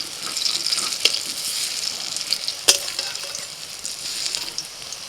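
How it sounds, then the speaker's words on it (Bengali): Small mung dal fritters sizzling in hot oil in a pan, a steady close crackle with a few sharper pops and stirring clinks, no talking. "এবার তেলের মধ্যে ছোট ছোট করে বড়া দিয়ে দেবো।"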